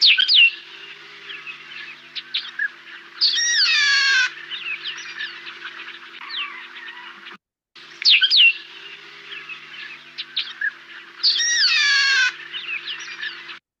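A wild Chilean bird repeats its song twice, each time a series of high, clear whistled and chirping notes with a brief gap between rounds, close and loud against a faint low hum.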